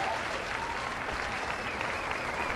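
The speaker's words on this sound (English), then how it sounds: "There are applause from the crowd and from the players for the refereeing." Crowd and players applaud at the close of a cup final game, a steady, dense wash of clapping heard from a distance without pause.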